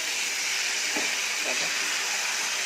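Chicken curry for a red meat-style jhol sizzles steadily in a pan while being sautéed, a loud continuous hiss with no pauses. Someone speaks faintly underneath.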